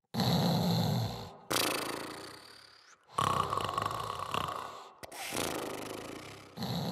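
Snoring effect for a sleeping castle in a Polish fairy-tale audiobook, three long rasping inhale-exhale cycles separated by short pauses, heavy and close with no speech.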